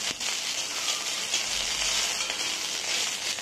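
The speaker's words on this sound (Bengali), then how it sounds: "এখন এই তেলের মধ্যে কয়েকটা কাঁচা লঙ্কা আমি হালকা করে ভেজে নিচ্ছি।" A steady, close sizzle of green chillies frying in mustard oil in a wok, bright and continuous, with a few faint clinks and no voices.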